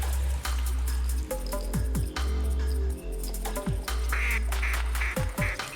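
A flock of ducks quacks repeatedly in TheHunter, loud, close calls overlapping in quick bursts over a steady low rumble, with a few sharp descending tones cutting through.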